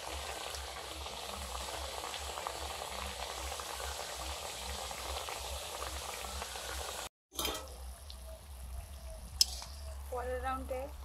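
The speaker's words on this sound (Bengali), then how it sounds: "একইভাবে পরপর সব কচুরিগুলো ভেজে নেব।" Khasta kachoris deep fry in oil with a continuous bubbling sizzle, briefly cut off partway through, then resume with a voice faintly heard under the frying near the end.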